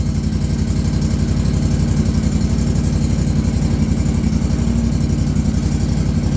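Spartan lawn mower engine running steadily right after starting with the choke off, a loud, even, rapid chugging drone held close and continuous without talk.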